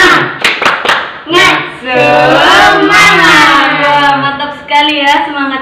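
Classroom of pupils doing the 'tepuk semangat' chant, rhythmic group handclaps in short patterned bursts mixed with loud chanted voices, close and energetic.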